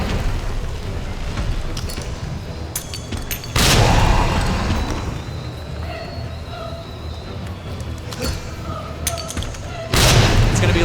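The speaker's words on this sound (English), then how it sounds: "Gonna do underhanded grenade throws." Grenade blasts in Resident Evil 2 Remake: two loud, sudden booms a few seconds apart, each fading into a rumbling tail over a noisy game background with faint talk.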